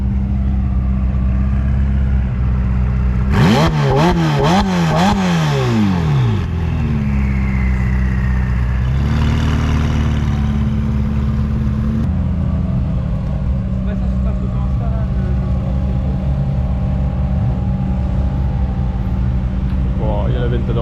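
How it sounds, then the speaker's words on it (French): A Lamborghini Aventador Roadster pulls up and revs hard in a few sharp rising and falling sweeps. The sound is loud and close over a steady idling drone, with people talking nearby. "Bon, il y a la Ventador Roadster qui arrive."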